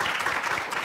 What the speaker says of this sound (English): Can we get another round of applause for these amazing speakers?